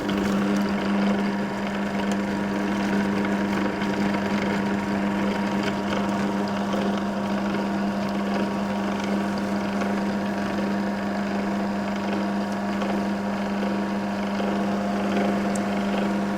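A Magimix Pâtissier multifunction food processor kneads tart dough for a chocolate tart, giving a steady motor drone with a strong constant hum throughout, moderately loud and without talk.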